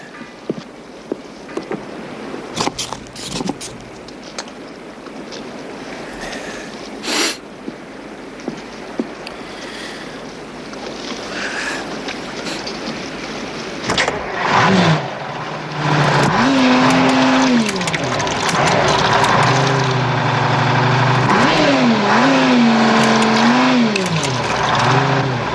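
A car engine, just repaired after a fuel line fault, starts up partway through and runs loudly with revving rises and falls, following a stretch of quieter clatter and knocks.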